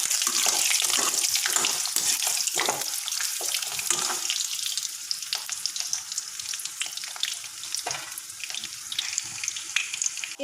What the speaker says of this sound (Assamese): সেইখিনি মই তেলত দি দিছোঁ আৰু অলপমান গল্ডেন ব্ৰাউন হোৱালৈকে মই অলপমান ফ্ৰাই কৰি ল'ম।